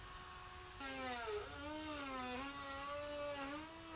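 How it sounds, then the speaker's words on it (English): A rotary tool with a cutting wheel traces a cut across a helmet visor, giving a faint high-pitched whine whose pitch dips and wavers as the wheel bites into the plastic, after a brief steadier spin. "this is really just tracing with the cutting wheel"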